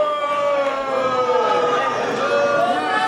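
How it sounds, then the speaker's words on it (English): A wrestling crowd at a student showcase jeers wrestler Liam Cross in a sustained, wailing chorus of boos and shouts, loud and continuous from start to finish. "crowd not hesitating to let Liam Cross know exactly how they feel about him"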